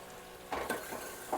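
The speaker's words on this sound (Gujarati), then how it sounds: "લસણવાળું, એ તેલમાં આ રીતનું મિક્સ કરી દેવી। આ રીતનું હલાવી મિક્સ કરવાનું છે" Garlic and chili are stirred through hot oil in a pan, a few quick scraping strokes over a soft steady sizzle, close and fairly quiet with no talking.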